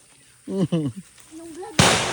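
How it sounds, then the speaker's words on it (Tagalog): A sharp firecracker-like blast bursts out outdoors, loud and sudden near the end, after a few moments of people talking. "may sumabog na naman"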